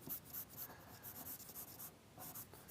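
Pastel pencil scratching across paper in short, sharp strokes, a quick run of close, dry scraping marks with brief gaps between them.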